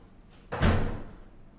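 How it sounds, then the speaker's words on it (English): A door being shut indoors, a single muffled thud close by in an otherwise quiet room. "let me shut a couple of doors."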